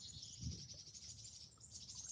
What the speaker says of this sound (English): Sounds like the birds have woken up.